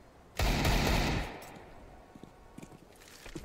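A rapid burst of automatic gunfire in the video game CS:GO rattles loudly for about a second, followed by a few scattered faint shots and clicks.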